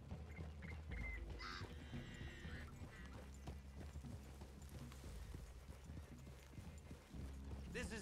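Horses' hooves clip-clopping in the video game Red Dead Redemption 2, a steady rhythmic trot with a horse whinnying and snorting, game voices and music underneath.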